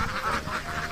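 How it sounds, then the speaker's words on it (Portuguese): Ducks quack in a dense flock in the Mekong delta, overlapping nasal calls pulsing steadily and loudly close by with no pause. "Os patos têm preferência, e não são poucos."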